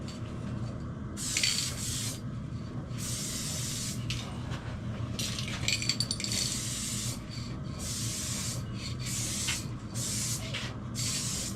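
Gold spray paint hisses in repeated bursts onto dirt bike forks, several short close sprays separated by brief pauses over a steady low background hum.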